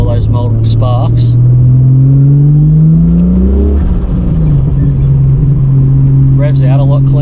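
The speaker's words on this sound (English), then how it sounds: "Revs out a lot cleaner, crisp, I'd probably call it." Holden VL Turbo Commodore engine with an upgraded CDI ignition revs loudly and crisply, pitch climbing then dropping back to a steady idle-like drone, close up, with brief voices over it.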